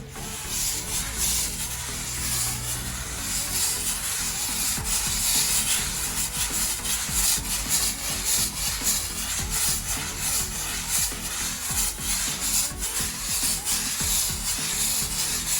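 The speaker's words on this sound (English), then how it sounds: "I'm going to just come in and scrub the spot that I sprayed and see if the paint pulls and separates off of the concrete" A scrub brush scrubs sprayed-on graffiti paint off a concrete surface with medium pressure, giving a steady, continuous rough rubbing and scraping that stays close and fairly loud throughout, with no talking.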